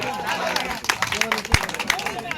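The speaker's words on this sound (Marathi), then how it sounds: "प्रेक्षकांना कुस्ती आवडली असेल तर टाळ्या वाजवा मित्रांनो" An audience claps at a village wrestling bout in Keli Manikeshwar. The scattered applause and crowd noise sit under a loud commentator's voice that carries on over the clapping throughout.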